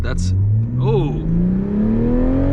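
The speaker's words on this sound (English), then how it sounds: "it's got the little fart back every time" A 2021 Toyota Supra engine revs up in a steady rising drone, with a sharp exhaust pop near the start. It is loud and close, and people talk and exclaim over it.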